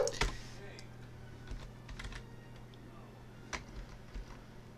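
Typing on a computer keyboard while coding, a scattered run of soft key taps and a few sharper clacks, quiet and close, with a voice talking intermittently.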